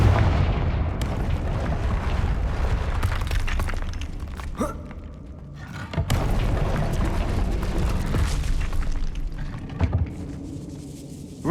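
Confringo explosive spell blasts in the video game Hogwarts Legacy, loud booming impacts with crackling debris over a dense, continuous game soundscape, with brief sharp bursts recurring throughout.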